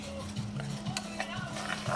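Quiet sizzling of fresh okra frying in a pan under a low steady hum, with a few light scrapes and clinks of a utensil stirring.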